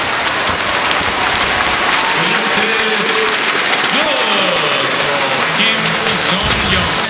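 Sustained, dense applause from an arena crowd at a world weightlifting championship after a clean and jerk attempt, loud and steady throughout, with a commentator talking over it.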